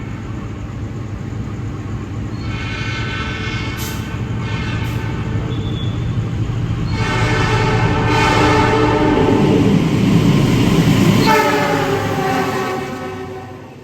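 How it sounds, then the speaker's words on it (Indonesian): An Indonesian passenger train, the Turangga, rumbles past close by, growing louder as it goes, with a long horn blast and several shorter horn sounds over the rolling noise. "habis ini keretanya mau lewat"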